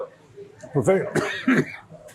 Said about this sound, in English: I coughed on that one too.